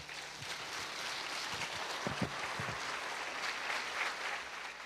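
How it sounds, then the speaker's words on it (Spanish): Church congregation applauding after a prayer, a soft, steady patter of many hands clapping heard at a distance, with a few low thumps mixed in. "Denle un aplauso al Señor."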